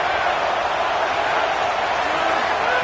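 Stadium crowd at a football game roaring steadily, a dense, loud, continuous wash of cheering and noise with no break across the whole span.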